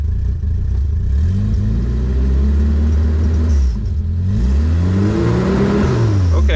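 A medium engine on a homemade technical vehicle catches after its fuel pump primes, then revs up and down in a few steady rising and falling pulls, loud and close with no talking.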